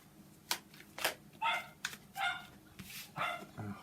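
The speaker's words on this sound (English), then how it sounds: "You know, the dog's going" A dog barks and yips in a quick irregular series of sharp barks and whiny calls, heard at a moderate distance in a quiet room.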